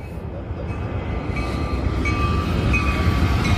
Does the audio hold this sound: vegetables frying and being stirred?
no